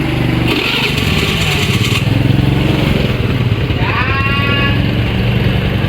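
A motorcycle fitted with an M45OTO Android alarm and its voice-activated starter cranks into life and settles into a steady, loud idle chug, with a short rising electronic tone near the end.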